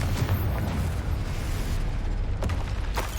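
Confringo spell blasts in Hogwarts Legacy, a dense rumbling explosive burst with a couple of sharp cracks near the end, loud and close over continuous game noise.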